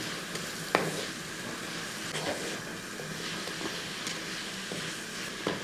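Bitter gourd with salt stirred in a hot pan for thoran, a soft steady sizzle with occasional scraping clicks of the spatula, close and fairly quiet.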